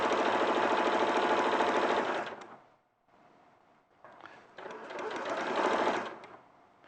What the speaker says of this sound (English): How far in are you sewing around the edge?